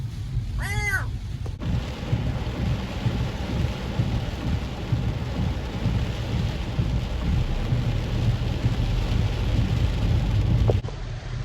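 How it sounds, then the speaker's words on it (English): Heavy rain pours steadily with a deep, continuous thunder rumble underneath. A short high meow-like voice rises and falls right at the start before the downpour fills the rest. "Cole, too much rain footage."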